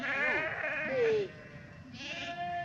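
Sheep on high mountain grazing land bleat loudly and near, two or three wavering cries in the first second followed by a softer bleat, with faint background noise between calls.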